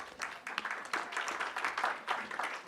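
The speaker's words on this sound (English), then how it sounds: "Please, a round of applause for her." Audience applause at a public talk for a newly introduced newspaper editor-in-chief: a short burst of moderately loud, fairly dense clapping lasting a few seconds.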